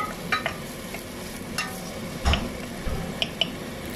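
Finely chopped cabbage stirred in a pan for vegetable noodles, giving soft scattered scrapes and a few light clicks of the spoon against the pan over a low, steady background hiss.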